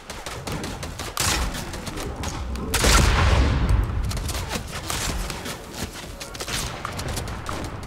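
A proximity grenade launcher in Fortnite fires and detonates, giving a dense run of sharp shots and crackling hits, with one heavier booming explosion swelling midway amid continuous gunfire.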